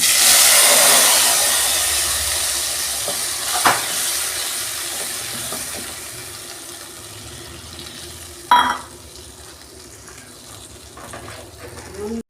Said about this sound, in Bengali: তেলের মধ্যে অল্প হলুদ দিচ্ছি এবার মশলাটা ঢেলে দিই